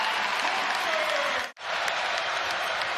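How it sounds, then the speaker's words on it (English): Rutgers basketball home crowd loudly cheering and applauding in an arena, a dense continuous roar with a brief dropout midway. "Rutgers crowd at its full-throated best"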